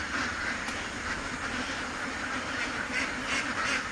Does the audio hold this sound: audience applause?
no